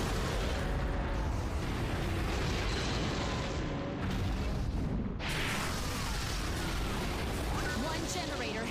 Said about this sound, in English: One generator has been destroyed.